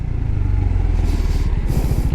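A KTM RC 390 motorcycle is ridden on a touring road in Ladakh, its single-cylinder engine giving a loud, steady, close throbbing drone with a slight rise in pitch partway through, and no voices.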